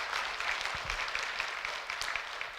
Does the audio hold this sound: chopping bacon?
no